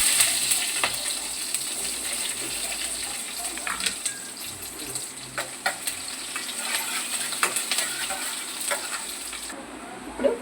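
Onions with cinnamon stick and shahjeera fry in hot oil as a tempering for semiya upma, making a dense, close sizzle with frequent sharp clicks and stirring clatter.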